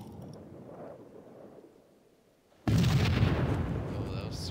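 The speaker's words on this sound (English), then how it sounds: "Frag grenade." Frag grenade blowing up in Garry's Mod: quiet low murmur, then a sudden loud close blast that rolls on into a long, noisy rumbling tail.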